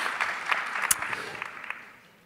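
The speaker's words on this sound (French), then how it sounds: "Applaudissez-les encore, elles le méritent." Scattered applause from a small audience rises briefly, then thins out and fades, with a few sharp individual claps.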